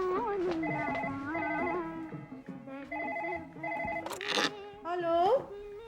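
A telephone rings in a home kitchen in the morning, a repeating electronic ringtone with a steady rhythm of bursts, fairly close, with someone talking over it.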